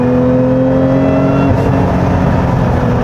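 A 2025 Lotus Emira V6 with the automatic transmission pulls hard on a winding road, its engine note climbing then dropping at a quick upshift before building again, loud and close with no talk.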